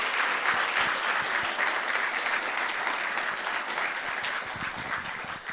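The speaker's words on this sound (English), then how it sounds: "Can we get a round of applause for them for doing such a fantastic job?" An audience at a live debate event claps steadily throughout, dense sustained applause for the security staff, loud and continuous with no voices on top.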